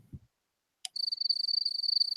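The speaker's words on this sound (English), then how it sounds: "Crickets." A crickets-chirping sound effect plays alone after a short thump and click: a rapid, high, pulsing trill that is clear and continuous for over a second in otherwise quiet surroundings.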